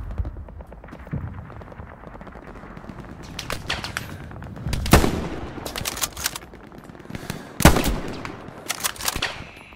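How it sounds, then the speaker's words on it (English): Gunfire in Hell Let Loose, a World War II shooter set in Stalingrad, with steady crackling shots and several louder, sharper bursts close by against a constant battlefield rumble. "someone else is shooting at me"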